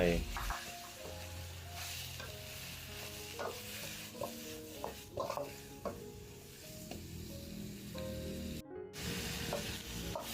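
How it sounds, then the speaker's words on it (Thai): Chinese kale and pork belly stir-fried in a pan: steady sizzling with repeated scraping and tossing of a utensil against the pan, close and moderately quiet, with brief soft sounds between strokes. "ผัดผักให้สลดเลยนะครับ ให้ยุบลงเลย ใส่หมูลงไป"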